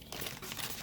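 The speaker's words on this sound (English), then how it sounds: "let's take it out of the plastic bag carefully." A Bandai Pokemon Pikachu model kit being pulled from a plastic bag, giving close, continuous crinkling and rustling of the plastic.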